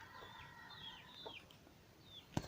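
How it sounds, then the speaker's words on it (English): Quiet domestic chickens on a mountainside clucking and chirping softly nearby, with scattered brief calls and a sharp knock near the end. "Where did these chickens come from?"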